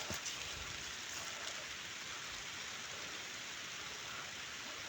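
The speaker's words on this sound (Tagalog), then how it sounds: "umuulan na" Steady rain falls over a planted garden plot, a dense, even hiss that holds at the same moderate level throughout with no voices.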